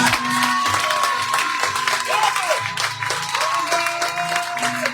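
A church congregation applauds and cheers to acclaim the Lord during a worship service, a dense continuous wash of clapping and voices with a sustained tone running through it.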